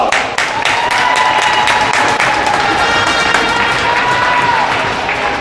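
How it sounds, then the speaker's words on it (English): A loud crowd applauds a senior player at a men's college hockey senior night in an arena, with dense sustained clapping, scattered cheers and whistles, and crowd voices mixed in. "Please give a nice round of applause for Tyler LaFollette."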